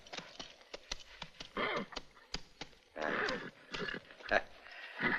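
A horse whinnies amid a run of sharp hoof clops and clatter, fairly close, with some movement noise between the calls.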